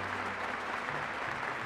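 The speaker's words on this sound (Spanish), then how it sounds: "demos un fuerte y emotivo aplauso a Jesús y a Santa María de Guadalupe" Congregation applauding at a Catholic Mass, a steady, dense wash of many hands clapping together, moderately distant and sustained throughout with no voices on top.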